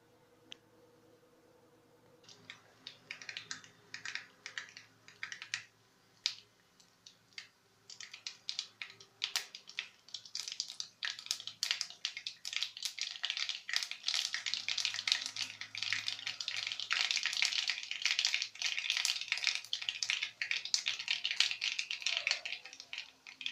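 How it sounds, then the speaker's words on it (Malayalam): Mustard seeds dropped into hot oil in a pan, crackling and spluttering in dense, irregular pops that build and grow louder over time into a busy sizzle, heard up close while cooking Kerala-style rava uppumavu. "ഇനി നമുക്ക് കടുക് ഇട്ട് കൊടുക്കാം."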